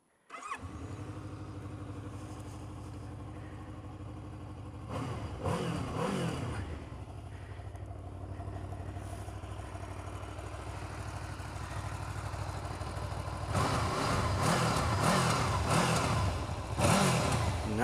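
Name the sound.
Honda VFR800F motorcycle engine starting and revving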